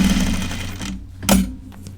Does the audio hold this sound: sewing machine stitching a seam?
yes